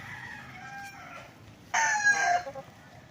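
On a farm, a rooster crows once loud and near, a short bright call rising above faint clucking and soft chicken sounds in the background.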